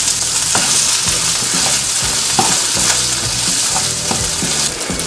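Crispy gnocchi stirred in a hot frying pan, giving a loud, continuous sizzle with a spatula scraping and tapping through it at a steady pace, close up and with no voices.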